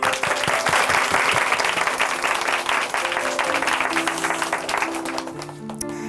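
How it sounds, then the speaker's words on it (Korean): A church congregation at Chuncheon Hanmaeum Church claps together in a sustained round of applause, fading as soft music rises at the end. "박수로 응원하겠습니다"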